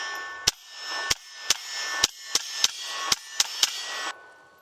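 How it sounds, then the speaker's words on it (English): A suppressed Ruger Mark IV 22/45 pistol fires nine quick, evenly paced shots at steel targets, each muffled crack followed by a bright metallic ring of the plate. "We're just shooting some steel."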